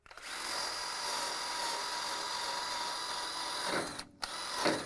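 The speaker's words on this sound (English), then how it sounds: "I'm going to go do a little bit of wire wheeling right here on the top end." Power wire wheel grinding paint off the top of a car's engine bay: a loud continuous high whir that holds steady, then briefly cuts out and spins back up near the end, no speech.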